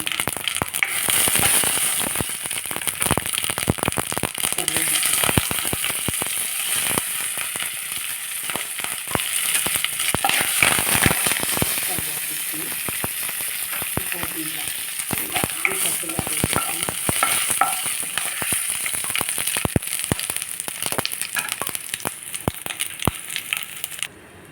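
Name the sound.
mustard seed tempering spluttering in hot oil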